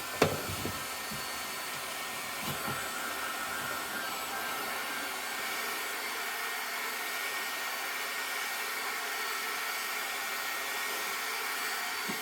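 A heat gun blows hot air in a steady, continuous broadband hiss while stripping the cab interior of a 1983 208D T1 van, with a brief knock near the start and no speech.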